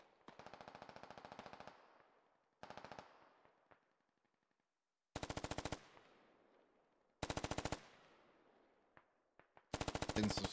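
Automatic rifle fire in the tactical shooter game Squad: several loud bursts of rapid shots, some longer and some short, separated by echoing tails and brief pauses, with scattered single shots between.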